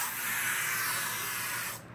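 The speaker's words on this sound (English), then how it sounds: "So I had to spray it." Aerosol room air freshener sprayed in a bedroom: a single loud, steady hiss lasting nearly two seconds, then cutting off abruptly, close to the listener with no talk.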